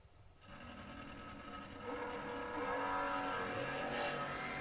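Door car drag racing at the Moser Engineering Door Car Duel, Keith Walters racing the Pickett Racing Machine: a loud, steady engine roar that swells and grows louder over a few seconds, with no voices.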